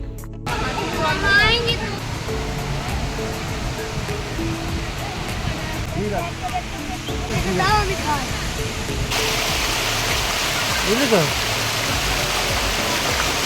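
Dassam Falls roaring as a steady, dense wash of rushing water heard from nearby, with voices of a crowd chattering faintly underneath throughout.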